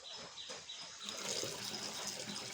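Tap water runs steadily into a bathroom basin for a cat to drink from, a continuous splashing rush that holds close and fairly even throughout.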